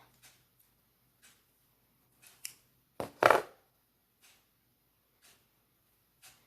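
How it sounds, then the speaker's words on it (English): Scissors snip through felt to cut out a heart shape: a few faint, sparse clicks, then a louder crunching cut in the middle, close and quiet overall. "You're gonna fold it in half and you're gonna cut it out."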